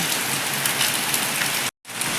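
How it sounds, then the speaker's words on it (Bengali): Steady rain pours down on a road, a dense hiss of drops hitting a hard surface, broken by a brief moment of silence near the end. "এই যে বৃষ্টি হচ্ছে"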